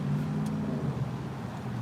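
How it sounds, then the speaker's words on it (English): A parked car's engine, just turned on, hums steadily close by, a low continuous drone that stays level for the whole moment without clear rise or fade. "There's a car right now."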